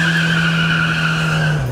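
A small car engine revs in one smooth sustained tone that holds steady, then drops slightly at the end, loud and close.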